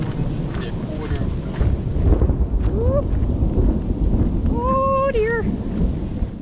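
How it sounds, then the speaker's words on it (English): Thunder rumbles almost without a break during a rainy thunderstorm, near and loud under steady rain and wind buffeting the microphone, while a person briefly speaks and a few bird calls cut through. "It's a lot of thunder coming our way."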